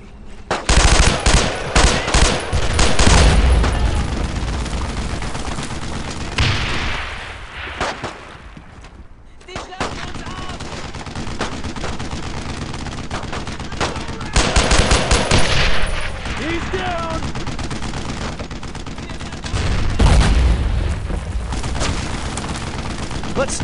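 Rapid machine-gun and rifle fire from the WWII game Brothers in Arms: Road to Hill 30 rattles almost nonstop, with booming explosions and shouted battlefield voices mixed in, briefly dropping away before the firefight resumes.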